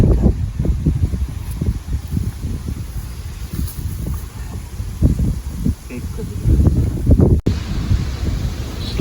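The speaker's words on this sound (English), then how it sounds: "It's a little windy today." Gusty outdoor wind buffets the microphone with continuous low rumbling on a farm where pigs are kept, loud and uneven throughout.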